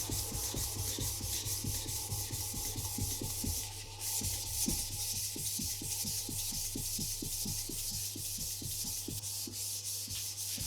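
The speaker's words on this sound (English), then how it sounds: "This is after a number of hours of sanding going down the grits." Wet and dry sandpaper worked by hand over a multi-layered resin sculpture, moving down through the grits after 60 grit: a steady run of rhythmic scraping strokes, close and continuous, over a low constant hum.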